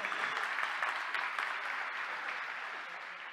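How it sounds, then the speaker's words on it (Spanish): Audience applause at a business technology event, a soft, distant, even wash of clapping that slowly fades toward the end. "Gracias por el aplauso"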